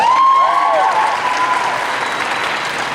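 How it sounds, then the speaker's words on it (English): A crowd applauds at a Comic Con panel in Richmond, Virginia, a loud, full wash of clapping with a thin whistle-like tone gliding over it early on, easing slightly toward the end. "We can applaud Doug Jones."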